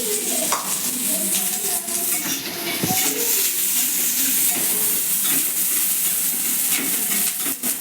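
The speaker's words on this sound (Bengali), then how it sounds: "পেঁয়াজটা একটু ভাজা ভাজা হয়ে গেলে" Onions frying in a pan for a fish roll give a steady, close sizzle that runs unbroken throughout, with occasional faint clinks of a utensil.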